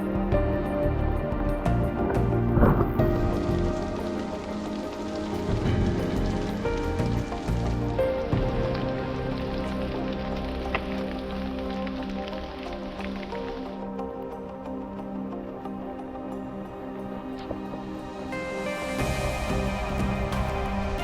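Rain patters steadily on a mountain bike trail in the Moses Creek area of Florida, a soft continuous wash with scattered drips heard close by, with no talking.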